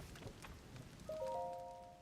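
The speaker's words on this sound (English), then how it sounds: "We're just gonna go sit over here until it stops raining." Rain falling in Tears of the Kingdom, a faint soft patter and hiss throughout, joined partway by a brief sustained chime-like tone from the game.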